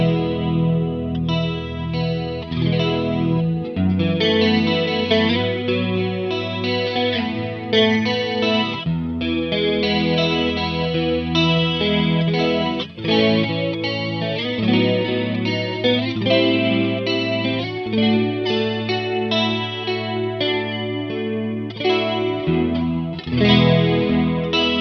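Guitar run through a Free The Tone TA-2H chorus pedal set to an even dry and wet blend, strummed chords and melodic lines shimmering continuously and loudly, with no voices.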